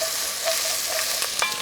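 Chopped onion sizzles steadily in melted butter in a pan, a close, continuous frying hiss with a few brief stirring scrapes near the end and no talking.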